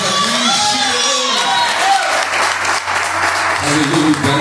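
A church congregation claps steadily throughout, with a raised voice speaking over the applause and scattered cheers mixed in.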